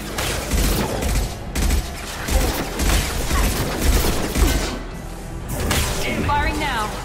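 Gunfire and explosive bursts in the Mass Effect 2 video game, a dense barrage of repeated shots and booms over a steady noisy battle bed, with a voice heard among them.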